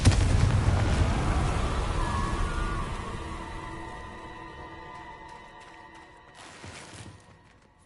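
Confringo spell blast in the Hogwarts Legacy video game: a loud burst of fiery explosion at the start that rumbles on and slowly fades, with a sharp ringing crackle near the end.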